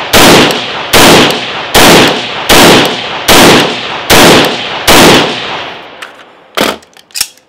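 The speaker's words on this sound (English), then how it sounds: "So let's go ahead and do 10 rounds." A Viper PDW rifle fires 55-grain full metal jacket brass-case rounds outdoors. Loud, evenly spaced cracking shots ring out in a steady rhythm, each with a short ringing decay, and a few scattered clanks and quieter knocks follow.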